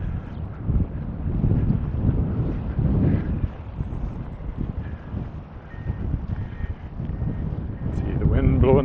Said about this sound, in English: See the wind blowing the poplars.